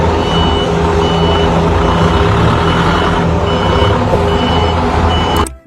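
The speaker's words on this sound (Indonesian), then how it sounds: "Mobil forklift." Toy forklift sounds a loud, steady string of reversing beeps over a constant engine-like drone, running the whole time until a sudden cut at the end.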